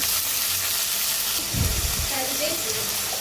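Onions hit hot oil in a pan for a fish and vegetable curry, a steady sizzle broken by a brief louder burst and rustle partway through, close and moderately loud.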